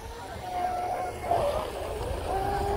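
A Pro Boat UL-19 RC boat with a six-pole Dynamite motor on 6S Spektrum 5000 batteries runs on water, its steady motor whine and water rush holding throughout under outdoor wind noise.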